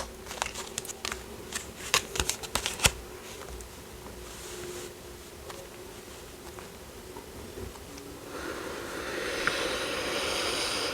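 Tarot cards being handled and laid down on a table: a few quick, close slaps and flicks early on, then softer rustling and shuffling under a faint, steady background hiss.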